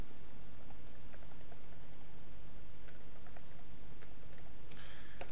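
Typing a password on a computer keyboard: a quiet, steady run of light clicking keystrokes with no talk.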